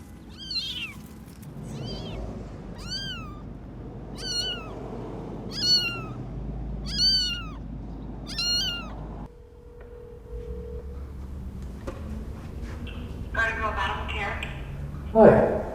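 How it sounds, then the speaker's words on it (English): Abandoned kittens meowing, a run of about seven clear high-pitched mewls spaced roughly a second apart, close by, followed by muffled handling noise and a faint later cry. "we've got some abandoned kittens"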